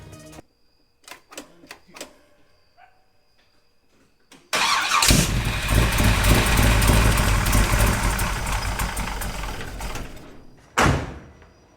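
A big block Chevy engine with a Holley mid-mount accessory drive gives a few clicks, then cranks and fires into a loud, steady idle for several seconds, with coolant pumping through the system, before it shuts off with a final burst.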